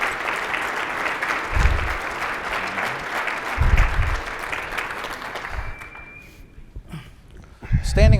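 An audience's standing-ovation applause for Governor Joe Lombardo at an IndyTalks event, steady and full at first, then thinning and dying away toward the end, with some low thumps and a brief bit of talk near the close.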